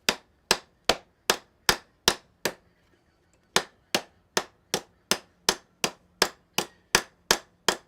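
Ball peen hammer striking metal in a blacksmith's smithy: two sets of about eight sharp, ringing blows at a steady quick rhythm, separated by a brief pause, loud and close with no talking.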